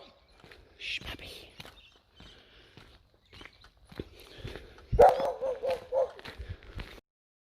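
A puppy barks outdoors during a brochure letterbox drop, giving a short cluster of sharp yaps partway through, among footsteps and soft human speech.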